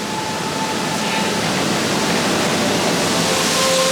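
Constant loud roar of a waterfall splash on the Valhalla ride at Blackpool Pleasure Beach, a steady broadband rush heard close up with no talking.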